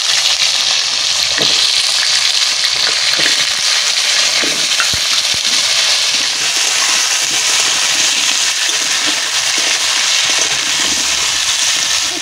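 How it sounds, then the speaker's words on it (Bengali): Pumpkin and potato pieces hit hot mustard oil in a wok already tempered with dried red chillies, bay leaf, five-spice and asafoetida, giving a loud, steady, close sizzle with occasional stirring clicks throughout. "এবার কেটে ধুয়ে রাখা কুমড়োর আলুটা তেলের মধ্যে দিই।"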